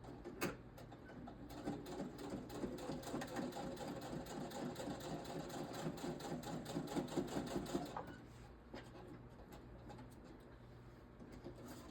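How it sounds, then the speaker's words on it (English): A sewing machine runs at a slow, steady pace with an even rhythmic clatter for several seconds, then stops, leaving quiet room tone. "I'm gonna just turn over here to the sewing machine and give them a little floof"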